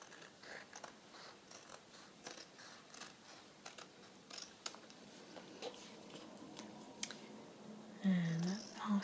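Scissors snip around a stamped fabric tag, quiet, irregular clicks and short cuts spread over several seconds, close and soft against a hushed room.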